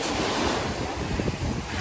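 Sea waves wash onto a beach under gusting wind that buffets the microphone, a close, continuous roar of surf and wind with no voices.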